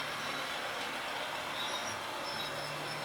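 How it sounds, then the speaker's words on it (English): A TT:120 scale class 50 model locomotive fitted with Engineman/Digitrains sound runs past, giving a steady diesel-like engine drone and rolling wheel noise at an even level throughout. "you can watch the train go by"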